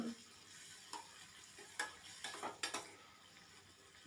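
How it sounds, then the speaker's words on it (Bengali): Cumin and ginger paste sautéing in a pan for a vegetarian bottle gourd kofta curry, a faint soft sizzle broken by a few sharp spoon scrapes and clinks against the pan, with no voices. "জিরে আর আদাটা আমি একটু কষিয়ে নিচ্ছি"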